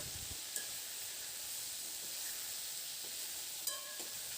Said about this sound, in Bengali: তো আমি এখানে ঝিঙে আলু একসঙ্গে ভেজে নিচ্ছি